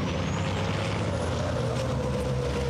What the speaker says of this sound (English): you can hear the brakes squealing as they pick their way around the back of the circuit